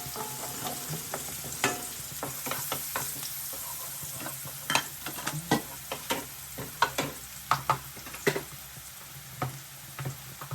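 Fried rice with onion and garlic is stir-fried in a pan, a soft sizzle broken by repeated sharp spatula scrapes and clacks that grow louder and more frequent toward the end.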